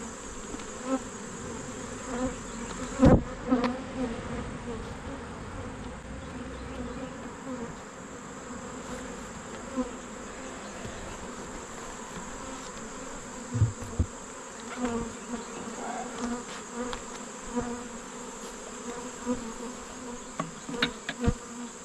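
Caucasian honeybees buzz around an open hive during an inspection, a dense continuous drone close by, with a few sharp knocks and clicks from handling the hive.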